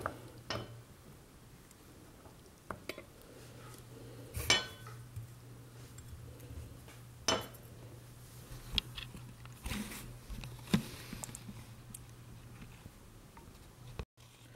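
A kitchen knife slices turnips into wedges on a cutting board, making quiet, sparse taps and clicks scattered through a low steady hum, with a few sharper knocks standing out.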